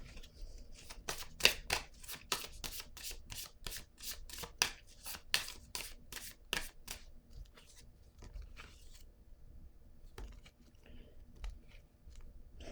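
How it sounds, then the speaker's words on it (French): A deck of cards is shuffled in a rapid run of crisp riffling snaps, then quieter single card handling, close and alone. "Je vais piger une autre carte par curiosité."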